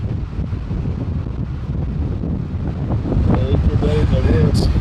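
Strong wind buffets the microphone on a cold beach at night, a loud low rumbling roar with surf-like gusts, and voices join toward the end.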